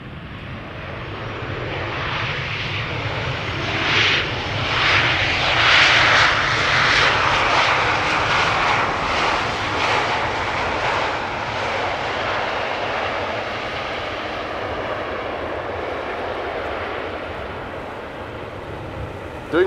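A Tarom airliner arriving from Bucharest approaches to land on the Polderbaan runway at Amsterdam Schiphol, heard from right beside the runway. Its engine roar is loud and steady, swelling and then slowly fading, with no talking.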